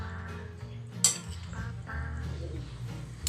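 Utensils clink and scrape against a bowl while chayote tops salad with salted egg is mixed by hand, a few light metallic taps and one sharper clink amid soft rustling and quiet stirring.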